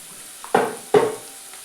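Onions cooking in a pan for a chicken dish, heard as two close, quick stirring scrapes of a utensil spaced about half a second apart over a faint sizzling background.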